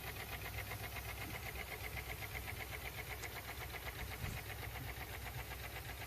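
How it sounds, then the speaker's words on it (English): Car engine with a loud piston knock running steadily, a dense rapid rhythmic knocking over the idle throughout, close and constant with no talk. "That's piston knock."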